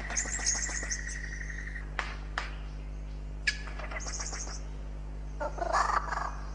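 A superb lyrebird in rainforest mimics other birds' songs: a run of varied whistles, sharp clicks and chattering calls, some sustained and some abrupt, loud against a constant low hum.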